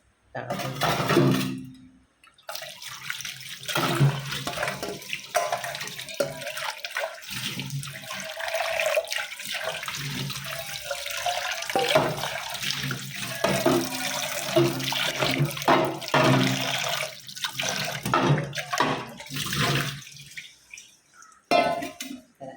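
Tap water splashing and rinsing inside a scrubbed glass jar at a sink, a continuous close gush with uneven sloshing and a few brief pauses, while someone talks over it.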